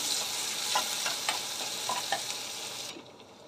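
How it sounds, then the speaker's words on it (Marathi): Finely chopped onion stirred and sautéed in a hot pan: a steady close sizzle with repeated scraping stir strokes, falling quieter in the final half second. "त्यानंतर यामध्ये जाईल बारीक चिरलेला कांदा. कांदा छान परतवून घ्यायचा आहे."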